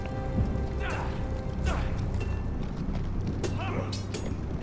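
Horse hooves clip-clop in the Game of Thrones Telltale video game, a few soft, irregular hoofbeats under a steady low ambient bed, with creaks and voices speaking over them.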